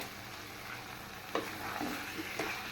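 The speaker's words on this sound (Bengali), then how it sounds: "এখন আমি আলুটা দিয়ে দিতেছি আলু আর মাংস একসাথেই কষানো হবে" Potatoes and chicken pieces fry together in a pan, giving a soft, steady sizzle with a few light stirring clinks near the end, fairly quiet and close.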